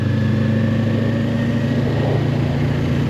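A car engine runs steadily close by with an even droning hum as the driver comes off the brake after a downshift and holds the throttle, with no one talking.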